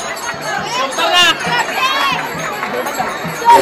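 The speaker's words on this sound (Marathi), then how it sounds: "इथं गर्दी भरपूर आहे ना" Busy crowd at a Ganpati immersion procession, with overlapping chatter, shouts and a bell-like ring mixed in a dense, lively hubbub close around.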